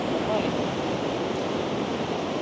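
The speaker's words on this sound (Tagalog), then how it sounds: "Grabe yung alon, no?" Steady, roaring surf from big ocean waves at Lamane Beach fills the air, close and constant, with light wind buffeting and no clear talk.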